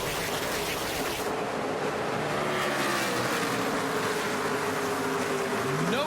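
NASCAR Cup Series cars race at Dover, a loud continuous roar of engines with rising and falling pitch sweeps as the pack passes close by.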